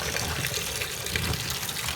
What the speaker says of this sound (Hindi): अब मैं इनको वॉश करने लगी हूँ।